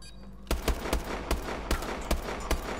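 Gunfire in the video game Call of Duty: Advanced Warfare during a search-and-destroy match: a loud, sharp burst of repeated shots at irregular intervals, about eight cracks over a steady low game background.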